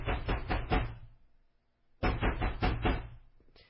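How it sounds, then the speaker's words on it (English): Loud banging on a condo door from inside the building, two bursts of rapid heavy knocks about two seconds apart with a short quiet gap between. "He began banging loudly on the door at 6:40 p.m."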